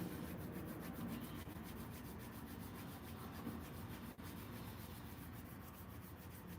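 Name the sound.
rubbing hands together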